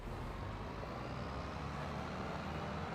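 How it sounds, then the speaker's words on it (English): A truck engine in a farming video game rumbles at a steady, close, fairly quiet level, a continuous low drone with no other sounds. "Start the old engine up."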